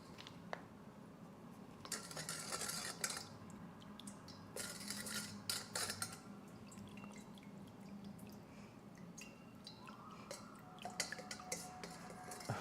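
Teaspoon stirring and clinking in a cup of water: soft, irregular metallic taps and swishes in bursts, close but quiet over a faint background.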